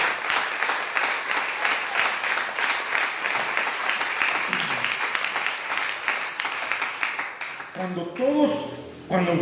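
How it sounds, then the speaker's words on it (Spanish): A church congregation claps through most of the stretch, a busy rolling applause that fades near the end as a voice begins speaking. "démosle un aplauso a Dios."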